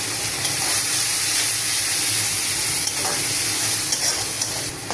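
Turmeric and chili powder fry in hot oil in a pan and are stirred, giving a continuous close sizzle and hiss with occasional soft scrapes, no voices.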